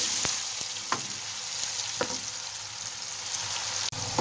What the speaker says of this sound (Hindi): प्याज और टमाटो को हम अच्छी तरह ऑयल में अच्छी तरह इसको भी भून लेंगे।